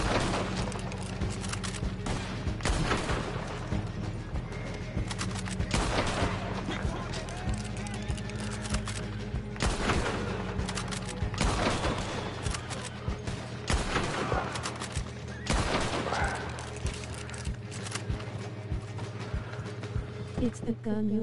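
Bolt-action rifle shots and the clack of the bolt cycling come from Red Dead Online gameplay, with Mauser pistols also in use. The reports repeat at irregular intervals over a steady game background while someone talks throughout.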